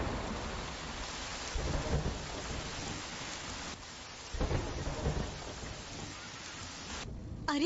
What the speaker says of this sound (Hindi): अरे बाप रे, कितनी तेज बारिश है